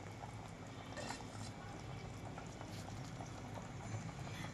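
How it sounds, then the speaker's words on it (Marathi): Bombil (Bombay duck) fish curry boiling in a pot on the stove: a steady, quiet, continuous bubbling and simmering, close and unbroken throughout. "मस्त उकळी आली आपल्या कालवणाला आता"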